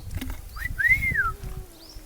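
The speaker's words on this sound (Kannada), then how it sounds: "ಹೊಡಿಲೆ ಸಿಟಿ." A sharp rising-and-falling whistle, the kind a person makes at a girl from the roadside, rings out once clearly near the middle, with a fainter short whistle near the end, over low background rumble.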